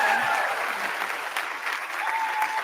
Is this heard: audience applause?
yes